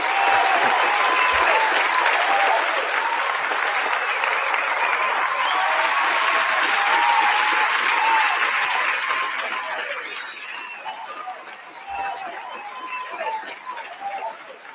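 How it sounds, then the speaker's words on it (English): A large audience claps continuously and loudly for a long stretch, a dense steady wash of hands that thins slightly toward the end, with faint crowd chatter mixed in. "Is it just me, or does it seem like that clapping just goes on a little too long?"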